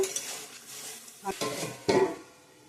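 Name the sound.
frying and stirring cauliflower in a pan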